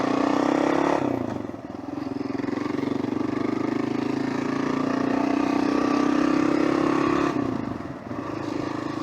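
Motorcycle being ridden on the road, a steady close engine drone with wind rush that dips briefly twice, as if easing off the throttle, then picks back up.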